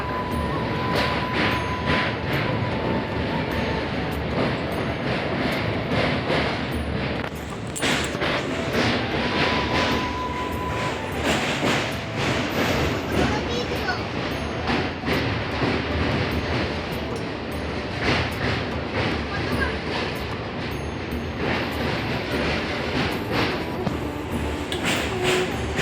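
Inside a nearly empty moving passenger train, a loud, continuous rumble and rattle of the carriage on the rails carries on without a break, with occasional thumps and no clear speech.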